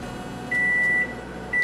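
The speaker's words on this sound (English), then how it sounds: "I heated it up in the microwave" A microwave oven beeps after heating a snack-style lunch, giving two steady, fairly loud electronic tones, one long and one starting at the end, over a low background hum with no talking.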